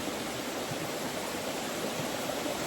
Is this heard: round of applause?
no